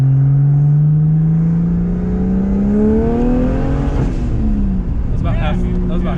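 A car engine revs up steadily to mid throttle, pitch climbing then falling back, loud and close, with a voice speaking over it.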